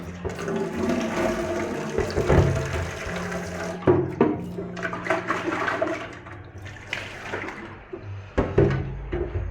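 Water runs and splashes while a part of an RO water purifier is rinsed under it, a continuous gushing stream broken by occasional knocks and clunks of handling, close by with no talking.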